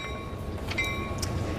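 A train at the Amtrak station in Emeryville gives a steady, low rumble with faint metallic clicks, continuous and moderately loud throughout with no voices.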